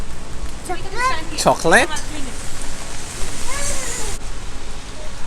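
Steady rain falls in a Melbourne street, a constant hiss of drops on surfaces under people talking and laughing nearby.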